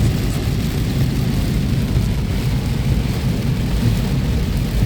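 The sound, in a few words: heavy rain falling, Mecca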